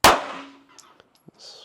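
A Canik Mete MC9L pistol fires a single loud, sharp shot at a shooting range, its report decaying quickly, followed by faint clicks and a soft hiss.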